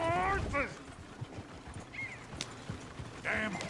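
Horses in the video game Red Dead Redemption 2 whinny and clop nearby in a chaotic scene, with shouts and voices over the animal noises.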